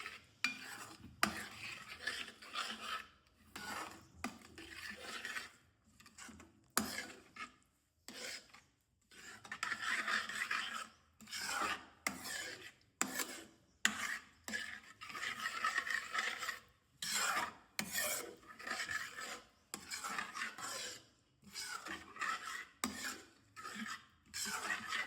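A utensil scrapes and rubs around a pan while tempered yogurt (dahi tikhari) is stirred, in repeated close rasping strokes separated by brief pauses.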